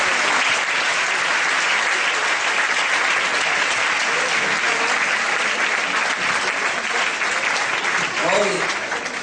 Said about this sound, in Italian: ancora un grande applauso a loro